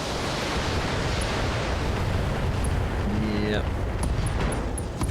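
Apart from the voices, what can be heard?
long-range missile barrage exploding in the BattleTech video game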